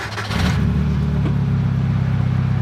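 A Mazda Miata engine cranks and catches, then settles into a loud, close, uneven rumble while running rough with a fault.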